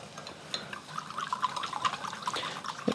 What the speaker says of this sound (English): I'm adding 2 tablespoons of sugar and 1 teaspoon of salt. And I'm just gonna stir that up.